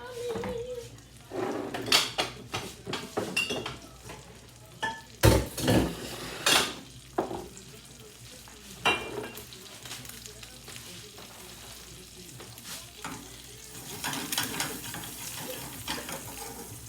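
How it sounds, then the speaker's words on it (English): An egg fries in a pan, a soft constant sizzle under clattering cookware, cutlery knocks and spatula scrapes, with a person talking at moments. "I'm making a fried egg"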